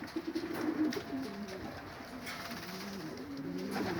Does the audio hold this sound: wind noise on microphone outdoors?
no